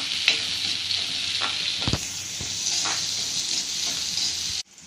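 Finely chopped onion fries in a pan, a steady bright sizzle with several sharp spatula scrapes and taps, cutting off abruptly at the end.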